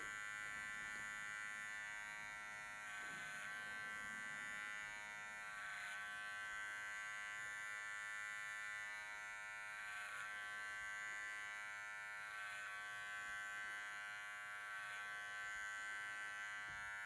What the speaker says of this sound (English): I put clipper to corner, and I'm putting it on the clipper comb and going straight